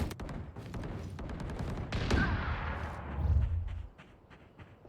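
Gunfire in the tactical shooter game Valorant, with a dense burst of rapid shots and sharp cracks over a few seconds, loud and close, fading near the end.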